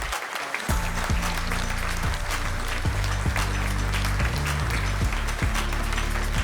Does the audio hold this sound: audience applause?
yes